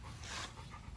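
An XL American Bully dog pants rapidly on wash day, quick breathy huffs close by with no voices over them.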